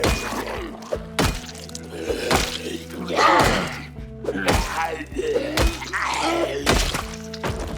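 Heavy crowbar blows land on a zombie inside a house in Project Zomboid, a run of dull thunks and cracking whacks at irregular intervals, loud and close, with no talking.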